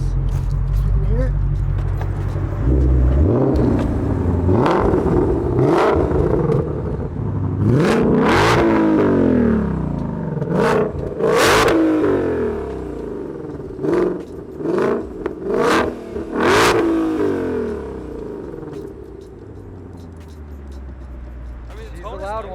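A 2020 Ford Mustang Shelby GT500's engine revs repeatedly, exhaust roaring up in sharp bursts and dropping back to a rumbling idle, loud and close, with voices talking alongside.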